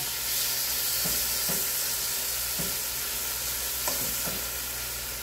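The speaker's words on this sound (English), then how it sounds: "what you're doing is locking in all the juices while you're searing it" Pork sears in a pot for a one-pot stew, giving a loud, steady sizzle and hiss throughout, broken by a few soft scraping stirs, with no voices.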